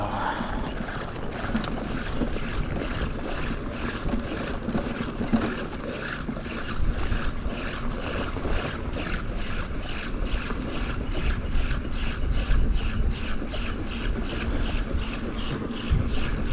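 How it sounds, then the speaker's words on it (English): A flat e-bike tire thumps rhythmically as the valve stem rides around during a mountain ride. Steady, evenly spaced beats sit under constant wind and rolling noise, close to the microphone, with no talking. "What you're hearing is the sound of a flat tire."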